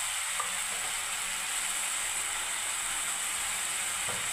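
Spices, turmeric among them, frying and sizzling steadily in a pan during home cooking of a Bengali mixed-vegetable chorchori with cumin, coriander, mustard paste, poppy seed and lentil dumplings, with a constant close hiss and occasional faint clinks.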